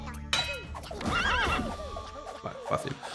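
In Headbangers Rhythm Royale, a game horse neighs in a bright, quavering whinny, with clip-clop hooves and other busy game effects around it, loud and near.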